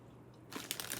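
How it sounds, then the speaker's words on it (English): A crunchy oatmeal butter cookie is bitten, with a soft, near crisp crunch breaking out after half a second of quiet, followed by a few more brittle crackling chews. "A very crunchy butter cookie with some oatmeal in it."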